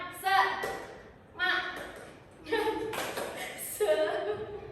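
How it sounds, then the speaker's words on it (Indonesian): A classroom of students performs a tepuk semangat clapping chant during a microteaching lesson, four short bursts of chanted voices mixed with clapping, close and lively. "kita tepuk semangat dulu ya"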